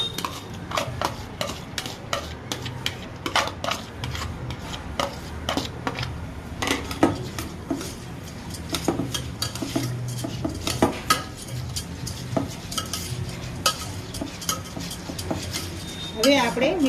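Ground rice and lentil batter for idli is stirred by hand in a bowl, giving a steady run of soft scraping and clinking taps that go on close by throughout with no one speaking.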